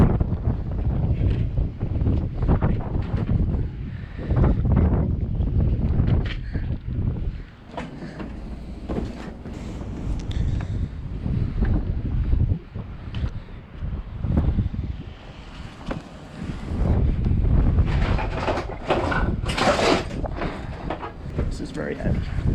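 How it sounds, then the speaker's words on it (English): Strong wind gusting outdoors during garbage picking in a residential neighborhood, a continuous loud rumbling buffet with surges and lulls that dominates throughout, with occasional voice underneath. "it's been really, really windy."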